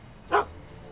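A single short dog bark from the Back to the Future adventure game, close and clear over a quiet background hum.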